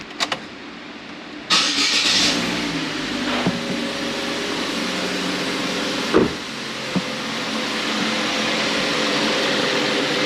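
A 2009 Chevrolet Aveo engine cranks and fires after a moment of quiet, then settles into a steady, loud idle, with a few brief clicks and knocks over the running engine.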